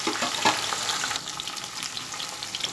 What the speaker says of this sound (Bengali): হালকা হাতে নাড়তে নাড়তে আমি জিনিসটাকে কিন্তু ভালোভাবে ফ্রাই করে দেবো